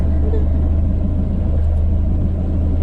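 A Geo Tracker's engine rumbles low and steady as it backs down off a rock wall at Jones Creek, a close, constant drone with faint mechanical texture and no clear revving.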